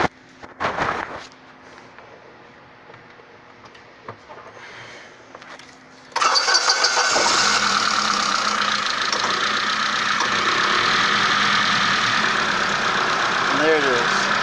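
A 1999 Saab 9-3 with high mileage cranks and fires, then settles into a loud, slightly rough idle that runs steadily after a few quieter seconds of background noise.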